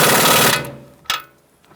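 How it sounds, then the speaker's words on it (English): An impact gun with a 21mm long socket tightens a front strut bolt on a 2000-2007 Ford Taurus: a loud, close, rattling hammer burst of about half a second, then a single short second blast. "I'm using a 21mm long socket and my impact gun"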